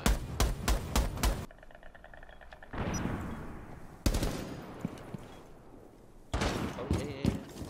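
Gunfire in Rainbow Six Siege: rapid bursts of automatic shots in sharp clusters, loud and close, broken by quieter pauses, with brief voice chatter between volleys.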